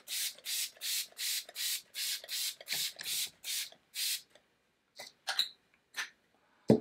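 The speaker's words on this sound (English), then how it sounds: "I'm just gonna spray it all over my face" Iconic London Prep Set Glow setting spray misted onto a face: a quick run of about nine short, even hissing pumps in steady rhythm, then a pause and a few scattered softer spritzes and rustles, close and fairly quiet.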